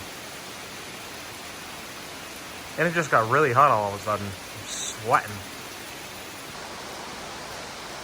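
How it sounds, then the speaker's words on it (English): Steady, dense hiss of heavy rain pouring throughout, with a person briefly talking midway over the downpour. "Couldn't even hear anything with rain no more."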